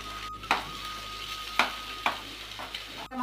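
An egg sizzles in a pan with tomato and curry leaves, a steady frying hiss broken by several sharp stirring scrapes and clinks, close up with no talking.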